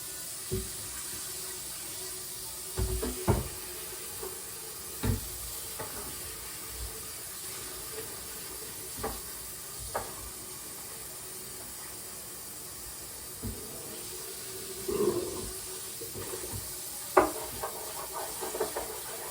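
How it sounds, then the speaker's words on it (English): Running water from a kitchen tap rinses out a pan, a steady hissing stream broken by occasional clanks and splashes as the pan is moved, nearby and without any talk. "let me wash this pan out."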